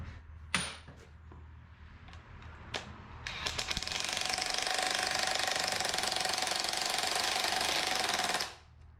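An impact wrench drives an Allen-head plug back into a reducer on an abandoned 1958 Apache truck: a few sharp knocks, then a loud, steady, close-up rattling hammer that runs about five seconds and stops abruptly.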